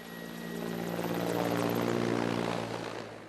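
A Soviet-era military helicopter passes directly overhead near Tawang, its rotor and engine drone swelling to a loud peak mid-pass and then easing slightly as it moves away.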